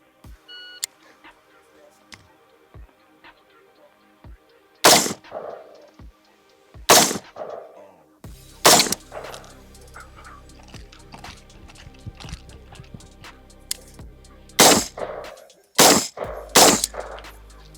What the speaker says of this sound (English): That first shot was high.